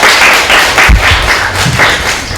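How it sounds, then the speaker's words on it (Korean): An audience claps together in a university technology management lecture hall, welcoming doctoral students about to present on tech startups; dense, steady clapping with a few louder thumps. "박수로, 큰 박수."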